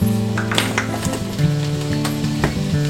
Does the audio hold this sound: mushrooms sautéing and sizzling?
yes